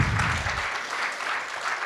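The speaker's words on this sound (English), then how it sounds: "How about a round of applause for John Sinclair?" A convention hall audience claps in a dense, steady burst of applause that continues evenly throughout without any voices.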